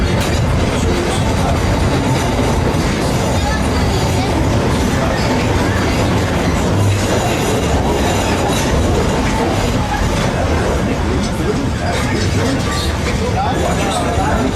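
A Walt Disney World Railroad train rolls into Frontierland Station with loud, continuous rumbling and wheel clatter, surrounded by crowd babble and voices throughout.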